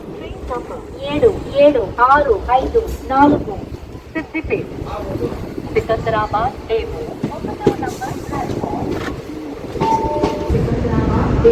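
A DEMU train pulls into Siddipet station with a steady low rumble and occasional clanks, while people talk and call out nearby throughout.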